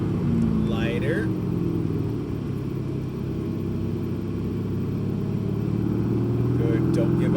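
A Mercedes-AMG GT R on a track drones with a steady, loud engine roar, pitch climbing gradually under throttle while a voice talks over it.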